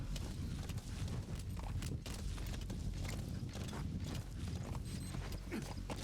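Horse hooves clip-clopping steadily in the video game Metal Gear Solid V: The Phantom Pain, a continuous rhythmic trot over low rumbling game ambience, with no talk.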